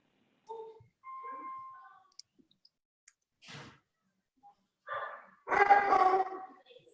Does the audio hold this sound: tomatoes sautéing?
no